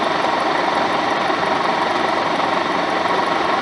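A 1973 Volkswagen Super Beetle air-cooled engine idles slowly at low revs, giving a steady, continuous droning hum with an even, unchanging level throughout.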